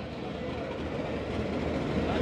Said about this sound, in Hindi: इतने में 1 अप खैबर मेल का भी अराइवल हो गया